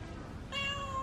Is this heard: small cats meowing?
yes